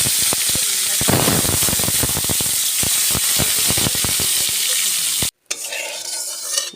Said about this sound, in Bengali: দেখো মাছগুলো ভেজে নিয়েছি এপিট ওপিট করে